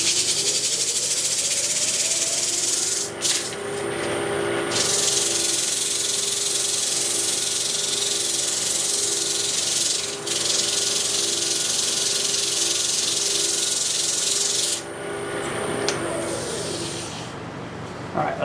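A soft hardwood bowl sanded with 150 grit sandpaper on a spinning lathe gives a steady, loud hissing rasp that runs throughout, with brief dips where the paper lifts off the wood.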